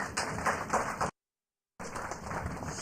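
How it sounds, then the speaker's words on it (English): Audience applause at a foundation event, a short burst of scattered clapping that cuts out briefly and then resumes, fairly close and moderate in level. "Let's give her a round of applause."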